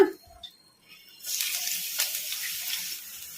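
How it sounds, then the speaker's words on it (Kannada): Long-sliced onions go into hot oil for onion manchurian. After a quiet moment with a faint clink, a soft, steady sizzle starts and carries on to the end at moderate loudness. "ಈಗ ಎಣ್ಣೆ ಕೂಡ ಬಿಸಿಯಾಗಿದೆ ಈಗ ಇದಕ್ಕೆ ಉಳ್ಳಾಗಡ್ಡಿನ ಉದ್ದುದ್ದ ಕಟ್ ಮಾಡಿ ಇಟ್ಕೊಂಡಿದ್ದೆಲ್ಲ ಈ ಥರ ಈಗ ಇವನ್ನ ಹಾಕಿ ಫ್ರೈ ಮಾಡ್ಕೊಂಬಿಡೋಣ"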